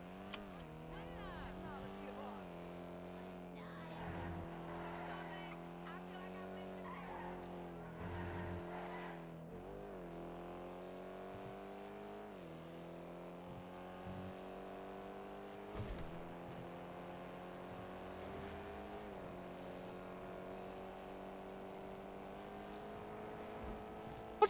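Car driving in the video game GTA during NoPixel roleplay, a steady engine drone that climbs in pitch and drops at each gear change, heard faintly and continuously, with quiet talk mixed in.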